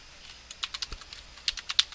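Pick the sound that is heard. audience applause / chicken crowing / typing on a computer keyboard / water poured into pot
typing on a computer keyboard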